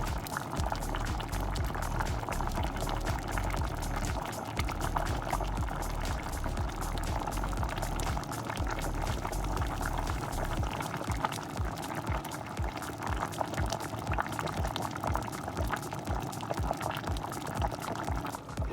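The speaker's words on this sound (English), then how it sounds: "Everything is going cooking down in the coconut juice." A pot of muikku, dumplings, okra and corn boils in coconut milk, giving a steady, continuous close-up bubbling and simmering sound that runs the whole time without talk.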